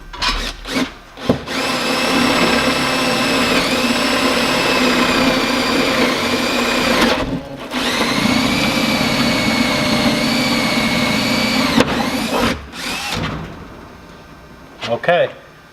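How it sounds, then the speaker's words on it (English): An electric drill whines loudly in two long, steady runs with a short pause between, boring a half-inch hole through a wall, then cuts off, leaving brief clatters and handling noises. "now I drilled my 1/2-inch hole centered in the area where I want to keep my furnace"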